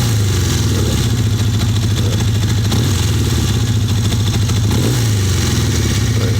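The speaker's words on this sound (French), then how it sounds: "voilà la machine, vous voyez, tout va correctement, elle tourne tout de suite, toujours 1200 tours" A 1980 Honda 400 cruiser motorcycle engine runs steadily at about 1200 rpm idle, a loud, close, even mechanical throb with a couple of slight rises in pitch and no talking.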